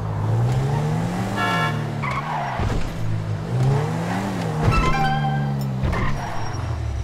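A McLaren P1 supercar in the video game GTA 5 drives with a loud, steady engine note that rises and falls through gear changes, with brief tire squeals mixed in and no talking.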